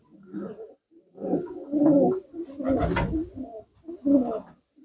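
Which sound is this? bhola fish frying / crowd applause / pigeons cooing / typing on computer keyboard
pigeons cooing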